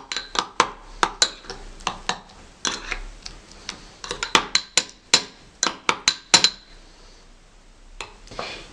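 A spoon clinks and taps against a bowl while stirring a strawberry-milk-like face mask mixture, about twenty sharp, irregular strikes, close and clear, with a short pause near the end.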